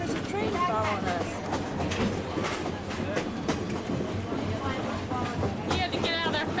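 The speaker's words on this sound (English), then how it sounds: "There's a train following us." A train rumbles along close behind on a mountain rail line near Perkinsville, with steady clattering wagon noise throughout and people talking over it.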